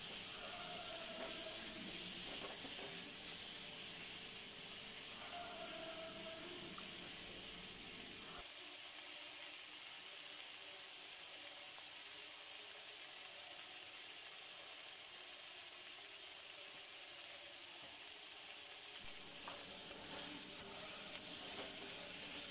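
Ginger, chili and cumin paste and chopped tomato sizzle in a kadai for green pea ghugni. A continuous, close frying hiss with faint stirring scrapes runs steadily, and nobody speaks.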